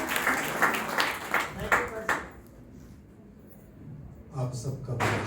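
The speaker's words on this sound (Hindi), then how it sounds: "ये नया साल है और नई तालियां होनी चाहिए, ये कम है।" A church congregation applauds at a New Year service, with scattered, uneven claps at first, then a quiet lull and a fresh burst of clapping, while a voice talks nearby.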